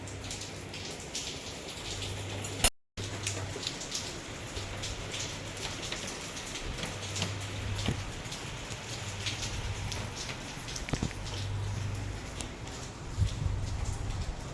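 Heavy rain pours steadily outside, a dense, continuous hiss and patter that stays even throughout, with a brief dropout near the start.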